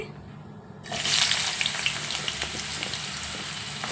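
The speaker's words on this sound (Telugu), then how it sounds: "ఆయిల్ వేసుకున్నాను వేయించుకోవాలండి" Thin-sliced pointed gourd (potal) hits hot oil with a sudden loud sizzle after a quiet start, then fries steadily with a bright, crackling hiss.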